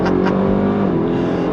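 2025 Dodge Durango Hellcat Hammerhead SUV launching hard from a standstill, its supercharged engine roaring loud and close in a steady, sustained surge of acceleration with a dense low rumble, no talk over it.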